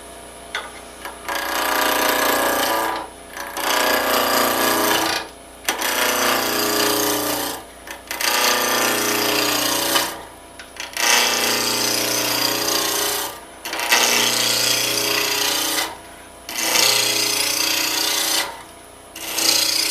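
Hard maple finial blank roughed on a wood lathe, with loud broadband tool cutting in repeated bursts of about two seconds each, separated by short pauses; a steady low motor hum runs underneath.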